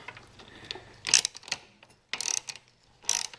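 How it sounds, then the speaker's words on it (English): A ratchet wrench with a 7/16 socket works a nut loose on a lawnmower, giving three short bursts of dense ratcheting clicks close up, with quieter mechanical handling between them. "I'm going to take this 7/16. I'm going to loosen this thing up."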